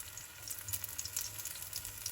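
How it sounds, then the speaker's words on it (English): Onions frying in a pan, a steady close crackling sizzle with bright popping spatters throughout and no voices. "You don't need too much colour on your onions, just get a little bit on them."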